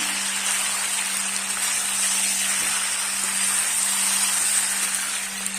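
Jackfruit curry cooks in a pan, producing a steady, even hiss of sizzling and bubbling that runs unchanged throughout, close and fairly loud, with no talking.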